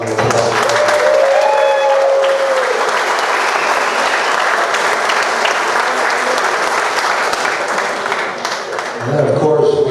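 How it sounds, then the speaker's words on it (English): Loud, dense applause from a large crowd at a clubhouse grand opening ceremony for the Chicago Blaze, steady and sustained for several seconds, with a brief voice and music near the start and end. "And so let's all give them a round of applause."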